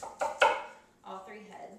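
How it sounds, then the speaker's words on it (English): A knife chops broccoli into bite-sized pieces on a board, giving three quick, close thuds followed by softer muffled handling sounds. "so we'll just cut it into kind of like bite-sized pieces"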